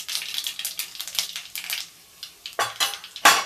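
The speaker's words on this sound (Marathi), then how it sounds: "मोहरी चांगली तडतड उडू द्या," Mustard seeds splutter in hot oil, tempered for a cowpea and potato curry, giving bursts of sharp, irregular crackling pops close by with short quiet gaps, no voices.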